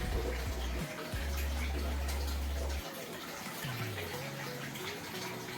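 Preheated, pre-treated barrel water pours steadily into an aquarium during the fill stage, a continuous rushing splash with a low hum underneath and brief gurgling shifts partway through.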